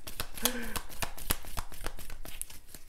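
Heart-shaped cards are shuffled in quick riffling bursts of soft clicks and flaps while a person talks over them.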